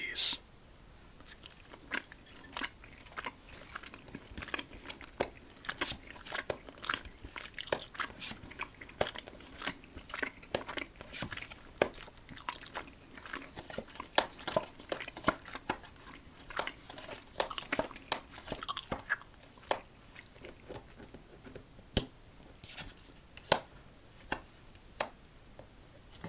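Close, wet chewing of a pineapple-flavored gummy candy shaped like a slice of cheese from a Krabby Patty combo meal set, with dense irregular clicks and soft squishes.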